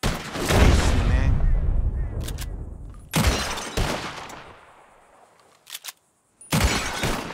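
Three loud gunshots are fired at bottles, spaced a few seconds apart, each ringing out and echoing before it decays. A brief click or thud sounds between the second and third shots.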